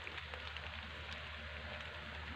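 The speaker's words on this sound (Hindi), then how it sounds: "ये देख सकते हैं बारिश फिर से आना स्टार्ट हो गई है।" Rain falls in a village, a soft, even hiss of drops heard faintly and continuously with no voices.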